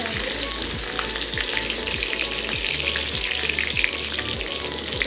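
Green chilies and cumin frying in hot mustard oil in a kadai, a steady close, loud sizzle throughout with regular scraping stirs of a spatula and no talk.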